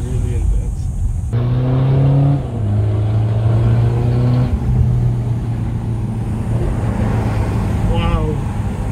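BMW 520d diesel engine revving hard when floored, climbing toward about 5,500 rpm with rising and falling pitch sweeps, loud and close, with someone talking excitedly over parts of it.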